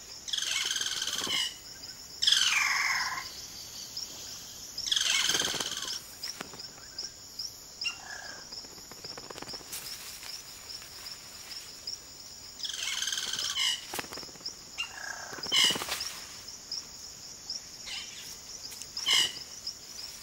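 Cacique birds in an Amazon rainforest colony call in repeated bursts of varied, liquid whistles and chatter. A constant high insect drone runs beneath them. No one speaks.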